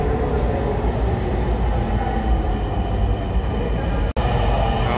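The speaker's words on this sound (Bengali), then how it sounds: "এখন মেট্রো রেলে যাচ্ছি, চলেন আমরা যেতে থাকি মেট্রো রেলে।" A metro rail train in motion, heard from inside as a loud steady rumble with constant rolling hum and faint rhythmic wheel noise, one brief dropout near the end.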